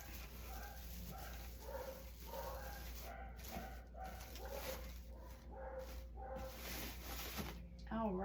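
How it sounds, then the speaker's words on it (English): Household dogs barking and yipping indoors, repeated bursts of barks and some whimpering over a constant low hum, with a person talking underneath. "someone told me on another video my dogs are too loud"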